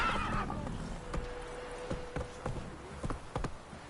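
Roach, Geralt's horse in The Witcher 3, gives a whinny at the start, then hooves clip-clop in uneven steps at moderate distance over a low game ambience.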